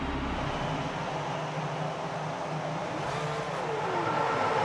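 Racing car engine in a video game, idling and building revs on the grid at the start of the China race, a steady dense engine drone with a rising pitch sweep near the end, continuous and fairly loud.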